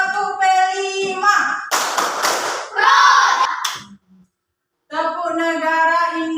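A class of schoolchildren stands and claps a rhythmic chant game led by a teacher, with sung or chanted voices broken by bursts of clapping, then a brief pause before the chanting resumes.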